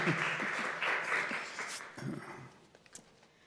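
An audience claps together in steady applause that gradually thins out and fades toward the end.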